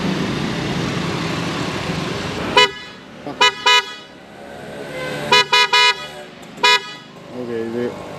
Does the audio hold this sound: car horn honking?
yes